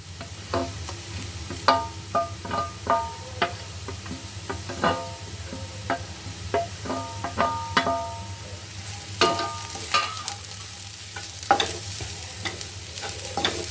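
Bitter gourd is stir-fried with roasted onion in a pan, a soft steady sizzle under a rhythmic series of distinct spatula scrapes and knocks, close and fairly loud, with no talking.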